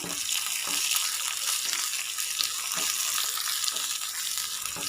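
Curry leaves and dried red chillies tempering in a hot pan with the flame off, stirred through a soft, steady crackling sizzle with faint spoon scrapes.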